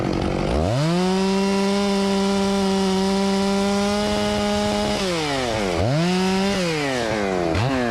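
A chainsaw cuts up a felled ash log, trimming off knots. The saw rises to a loud, steady whine, holds it while cutting, then drops off and revs back up twice, close by and with no talking.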